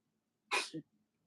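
A single sharp sneeze bursts out close by, followed by a brief exhale, then quiet.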